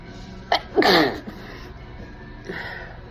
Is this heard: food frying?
no